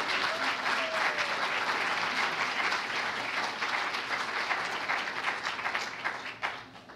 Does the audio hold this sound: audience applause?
yes